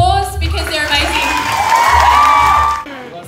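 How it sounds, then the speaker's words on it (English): An audience at the NYX Face Awards cheers and whoops for the top five finalists, excited shouts rising over a loud crowd, with a voice talking near the start and end. "give the top 5 a round of applause because they're amazing"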